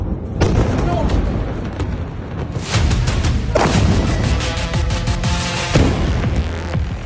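Explosions from an Iranian missile strike on Haifa, Israel: heavy, rumbling booms and sharp blasts in loud repeated bursts, with a voice talking over them.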